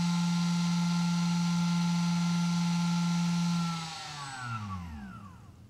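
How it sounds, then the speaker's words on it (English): A Castle 2028 1700Kv brushless motor on a bench timing test holds a steady, high electric whine with strong tones, then winds down with falling pitch near the end. "So press this, so it's gonna spin it up, and it's gonna measure the timing of the motor."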